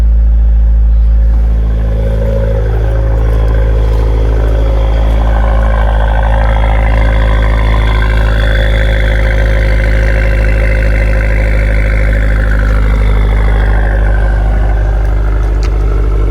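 A Fiat 124 Spider Abarth's engine idling smoothly and loud right after new Alfa Romeo 4C coil packs are fitted, a steady low rumble held close throughout.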